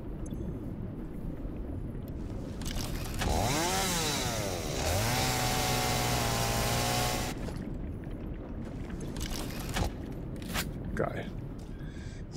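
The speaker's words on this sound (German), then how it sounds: "Jetzt muss ich mal kurz hier ein bisschen Busch entfernen. Habe ich irgendwo die Kettensäge?" A chainsaw clears bushes in the factory-building video game Satisfactory. It revs up loudly, holds a buzzing whine for several seconds, then cuts off, with someone talking before and after.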